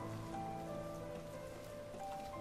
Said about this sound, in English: It's cold and rainy outside.